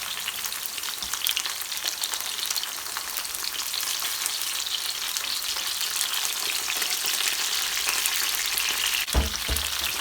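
Vegetables frying in oil in a pan hiss and spatter in a steady, close sizzle for the whole stretch, with a single dull knock near the end.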